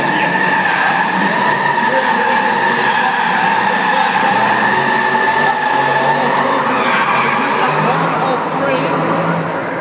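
A Mercedes-Benz skids through a controlled getaway in a live indoor stunt show, tires squealing continuously for about ten seconds over a loud engine and a big arena echo.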